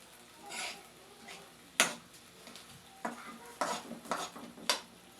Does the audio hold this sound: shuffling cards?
no